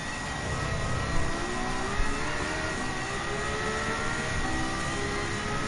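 Ferrari 812 Superfast engine in Gran Turismo 7, a steady high-pitched roar held near the rev limit with a dense, continuous whine and slight surges, loud and sustained throughout.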